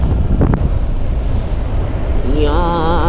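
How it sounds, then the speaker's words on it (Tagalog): Strong wind buffets the microphone outdoors by a garden cafe, a loud continuous rumbling roar that keeps going throughout, while a voice briefly speaks near the end. "Napaka lakas ng hangin."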